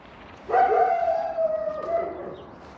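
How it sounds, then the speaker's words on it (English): A single drawn-out dog howl or whine rising near the microphone and holding for over a second, over a low background hum. "The dogs are barking again."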